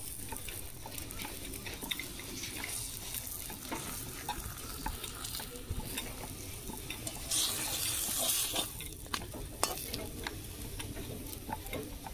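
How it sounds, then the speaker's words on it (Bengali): A paratha frying in a pan gives a soft, steady sizzle with scraping and stirring clatter throughout, fairly quiet and with no one talking. "আর একটা পরোটা ভাজবো।"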